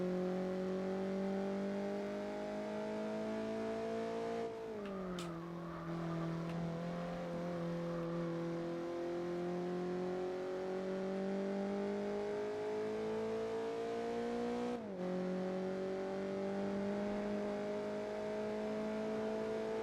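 Race car engine lapping the Nürburgring in Gran Turismo 4, a sustained loud drone that dips and climbs through gear changes around five and fifteen seconds, alone without talk.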